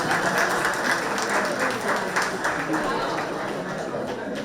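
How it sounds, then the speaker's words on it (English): Audience applause at a school pitch event, sustained clapping mixed with crowd chatter and voices, fairly loud and close, tapering slightly toward the end. "yourselves a round of applause?"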